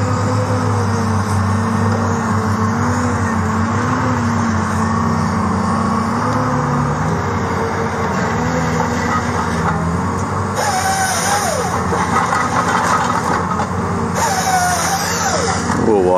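A logging truck's engine idles and rumbles at a roadside logging site, a steady low drone with shifting tones and a couple of brief higher squeals or whines near the end, fairly loud and continuous.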